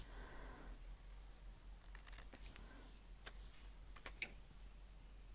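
Scissors trimming a printed paper label from a label maker, a few quiet close snips and crisp clicks scattered across a hushed room, sharpest near the end, with no talking.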